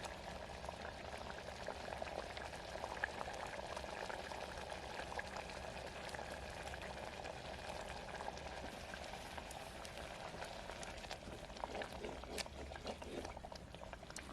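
Urad dal bubbling steadily in a pot over a village cooking fire, a continuous dense simmer with soft pops and gurgles that stays even and moderately close throughout, with no talk over it.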